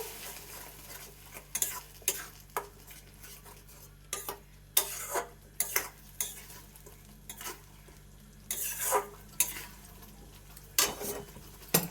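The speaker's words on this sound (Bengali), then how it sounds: "এবার ভালো করে নাড়াচাড়া করে নেব" A fried and ground onion and peanut paste is stirred in a pan for a rohu fish curry: irregular, spaced scraping strokes of a spoon against the pan over a faint low hum, with a soft sizzle underneath.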